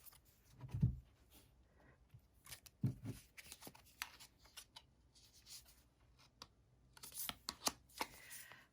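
Dragon Wisdom tarot cards shuffled and drawn, with soft papery riffles and slaps in short bursts, loudest near the start and again toward the end, close and fairly quiet with no talking.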